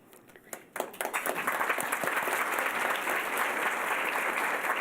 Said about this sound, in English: they appreciate the applause